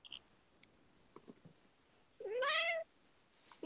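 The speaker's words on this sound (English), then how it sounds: "Ooh, kitty cat." A cat meows once, loud and drawn out with a rising then falling pitch, after a few faint taps and rustles in an otherwise quiet indoor room.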